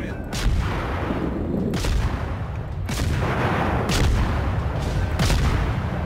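Rapid naval gunfire in World of Warships booms in a steady series of heavy blasts about once a second over a dense, continuous roar of battle noise.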